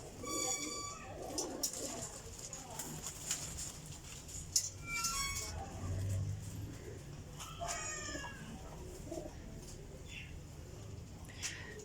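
Pigeons coo in a loft among other chirping and calling birds, a busy mix of overlapping calls at moderate distance, with faint human voices at times.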